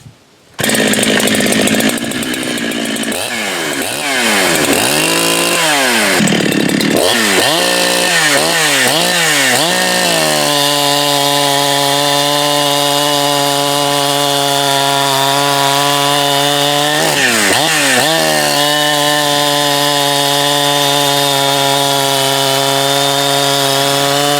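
A Husqvarna 372 chainsaw fitted with a Huztl 52mm cylinder warms up nearby, loud and close, with a series of throttle blips rising and falling before it holds a steady high-revving scream, then one more quick blip near the end.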